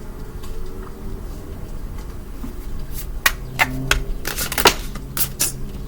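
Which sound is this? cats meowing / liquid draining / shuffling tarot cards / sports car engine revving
shuffling tarot cards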